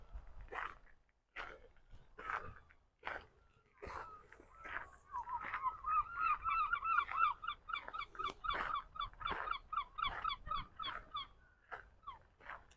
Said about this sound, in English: Lots of seagulls here in Arbroath, known for its fishing in the harbour, and seagulls are very noisy here.